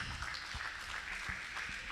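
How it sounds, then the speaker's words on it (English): An audience at a corporate annual meet and awards night claps steadily, a moderately faint, even wash of applause heard from a distance with occasional low thumps. "A huge round of applause for both Ismails"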